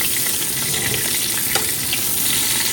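Butter basted with a spoon over a steak sizzling in a hot pan, a steady close, loud frying hiss throughout with a faint spoon clink partway through and no talking.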